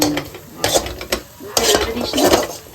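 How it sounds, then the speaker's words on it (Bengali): A spice paste of ginger and green chili fries in a pan while being stirred, with steady sizzling under repeated scraping and clinking of a utensil against the pot. The sound is close and fairly loud, with no talking. "ওটা আদা আর কাঁচা লঙ্কা এখানে একটা মশলা কষাচ্ছে"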